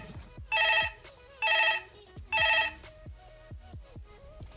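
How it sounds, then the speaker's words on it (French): A telephone rings in three loud, evenly spaced bursts of bright electronic trill, with a quiet room and faint background voices between the rings, in a quarantine centre room in Algeria. "Et là, le téléphone sonne,"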